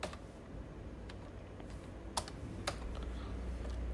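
Soft, steady keystrokes tap on a computer keyboard while a LOWER formula is entered in Excel, with a few sharper clicks standing out from the quiet, even typing.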